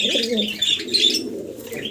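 Pigeons coo in soft, throaty calls at a pigeon farm with birds kept in cages, several close by and overlapping, with faint chirps mixed in.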